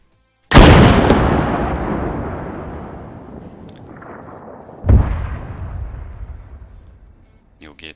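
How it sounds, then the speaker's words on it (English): Anti-tank gun firing in Arma 3 with the IFA3 WW2 mod, a huge close blast with a long rolling decay, followed about four seconds later by a second heavy boom, probably the shell's impact, that fades slowly. "and if we fire the gun"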